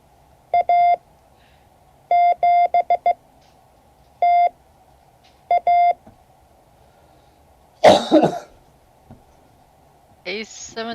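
Morse code in cut-number form plays as short bursts of steady mid-pitched beeps in quick groups, with pauses between them. A cough and some faint talk follow near the end.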